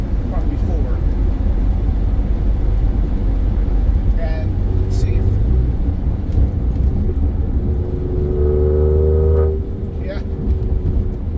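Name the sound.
twin turbo car engine revving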